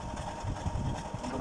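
Ceiling fan whirring steadily in a home kitchen, a continuous broadband mechanical drone with a slight rhythmic pulsing, close and moderately loud, with no talk.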